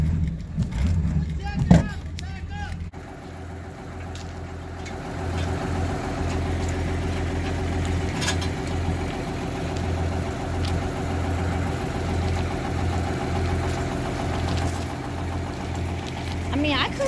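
A truck stuck in mud idles with a low, steady engine rumble, close and continuous, after a brief burst of louder noise at the start.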